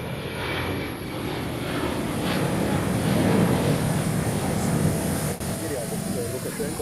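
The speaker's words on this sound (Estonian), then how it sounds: "Hommikul maandus Lukašenka lennuk Pekingi pealinna lennujaamas Shoudu." Airplane carrying the Belarusian leader landing at Beijing Capital (Shoudu) airport, a steady broad engine roar that swells slightly mid-way, heard under a faint voice.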